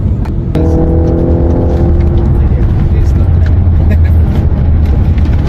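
A naturally aspirated V8 wagon engine drones loudly and steadily as the car drives, with a brief rising rev near the start.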